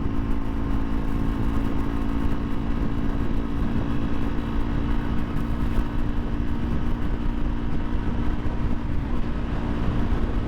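A 2017 Honda CRF 250L, a 250cc single-cylinder motorcycle, cruises in sixth gear with a steady, continuous engine drone and heavy wind rush, loud and unbroken throughout with no talking.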